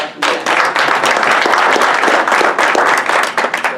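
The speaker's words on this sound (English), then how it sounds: "Let's give him a round of applause." Audience applause at a Wise Counsel speaking event, a loud, full burst of many hands clapping that starts abruptly and holds steady with no talk over it.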